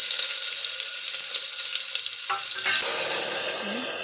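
Mustard seeds and spices crackling in hot oil, tempered for a horse gram masala sambar; a steady, loud sizzle runs throughout with a few brief stirring clicks, and no one speaks.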